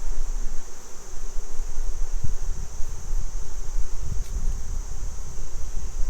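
Honey bees hum steadily around an open hive during an apiary inspection, a continuous close buzz that holds evenly throughout under outdoor ambience, with occasional soft rustles and no talk.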